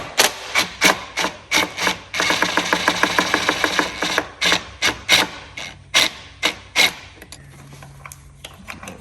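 Removing the foot clamp from a Jeep auxiliary battery produces rapid, rhythmic scraping and ratcheting strokes up close, some in quick bursts and others in single spaced clicks.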